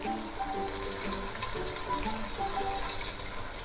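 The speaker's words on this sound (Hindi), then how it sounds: "थोड़ा सा पानी ऐड करूंगी," Water poured into a pan of fried chicken while cooking spicy chicken spaghetti, giving a steady, fairly faint rush and splash that holds evenly throughout.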